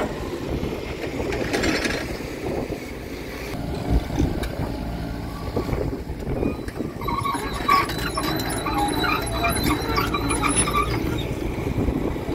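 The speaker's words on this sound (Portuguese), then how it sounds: "Já chegou o ventão da chuva." Strong gusting wind before rain, roaring as broad, steady rushing noise with a louder surge partway through, heard close and continuous with no talk over it.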